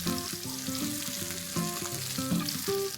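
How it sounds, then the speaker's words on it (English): Sliced spring onion whites fry in a pan for burnt garlic fried rice, giving a loud, dense sizzle broken by quick rhythmic stirring clatter, close and without speech. "Just fry the spring onions a little bit."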